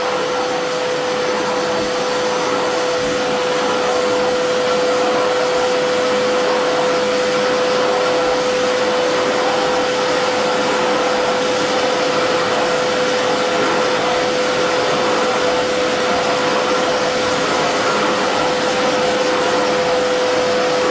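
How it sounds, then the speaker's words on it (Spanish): A Majestic cleaning machine blows air to dry a freshly cleaned carpet, giving a loud, steady whine with a constant high tone that runs unbroken for about 21 seconds, with no voices. "Ahora vamos soplando y vamos secando la alfombra."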